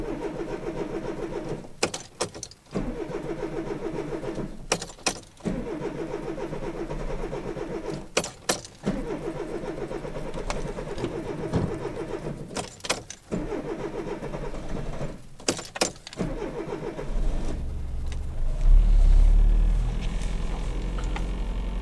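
A 1993 Citroën AX running on 100% ethanol cranks repeatedly in several separate starter bursts before the engine finally catches and revs near the end, loud and close in a cold garage.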